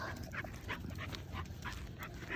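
Golden retriever puppy giving soft, faint whimpers and whines in short repeated bursts over low background noise, with no talk.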